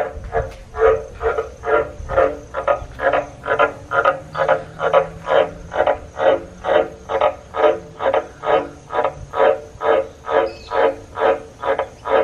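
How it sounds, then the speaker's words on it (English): A frog croaking in a long regular series, about two calls per second, each a clear pulsed croak, fairly close and alone over faint background hum. "This frog."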